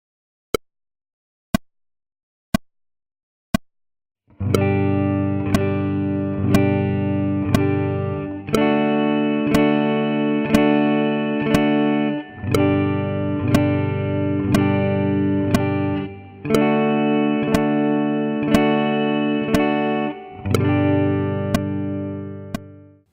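A guitar strums a few single muted strums, then rings out with sustained chords that change several times, pivoting between shapes in a steady rhythm; clear and close with no talking.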